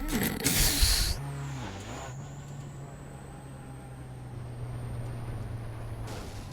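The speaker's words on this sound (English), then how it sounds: "Yeah, that's a juicy handbrake." A car's handbrake yanked in the iRacing sim gives a sharp hissing burst up front, then a steady low engine drone with a faint whine carries on alone.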